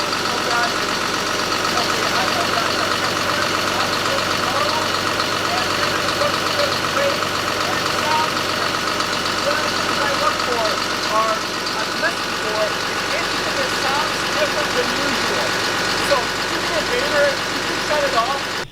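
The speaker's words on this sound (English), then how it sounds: "it's a little loud in here. Big diesel running at 950 RPM" A big John Deere 6068 diesel runs at a steady 950 RPM inside a cramped engine room, producing a loud, continuous droning rumble with a dense mechanical hum that stays constant throughout.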